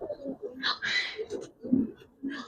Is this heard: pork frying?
no